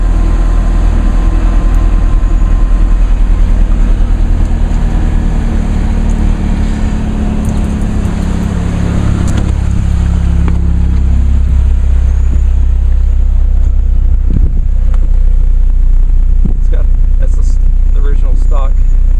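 A supercharged 2006 Chevrolet Cobalt SS with a 2-inch tailpipe, its engine idling with a deep, loud exhaust rumble close by. The sound holds steady throughout while people talk over it.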